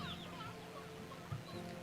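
Brief, soft clucking from a rooster and chickens in the video game Slime Rancher 2, with low murmuring fowl sounds over a steady ambient bed.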